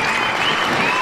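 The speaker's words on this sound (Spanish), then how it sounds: "Un aplauso gigantesco." Dense burst of audience applause at a live folk music concert in Chile Chico, Chile, welcoming a band on stage; continuous, full clapping with no gaps.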